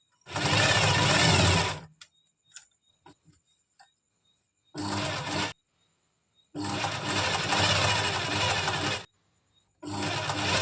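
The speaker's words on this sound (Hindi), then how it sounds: "हम पूरे में इस तरह से सिलाई लगा देंगे" A sewing machine stitching the hem of a palazzo, loud close whirring runs of varying length, separated by pauses filled with small clicks and handling noises.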